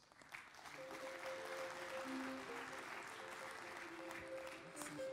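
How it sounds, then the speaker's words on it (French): Audience applause at a DLR 2012 conference talk greets speaker Olivier Torrès, a steady wash of clapping sustained for about five seconds with a faint tonal hum underneath. "je vous demande d'applaudir"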